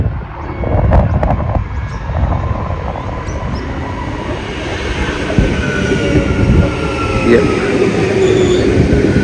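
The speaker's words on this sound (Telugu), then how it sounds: "ట్రైన్ వచ్చేసింది." A train pulls into a station in Australia with a loud, steady rumble of wheels and carriages and a thin high squeal running close by throughout.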